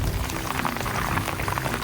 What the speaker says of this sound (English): a bunch of water is about to come out of this thing